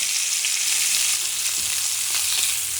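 Pork shoulder sears in a hot pan with a steady, dense sizzle of frying fat that runs throughout, plus a few faint clinks and stirring touches, no voices.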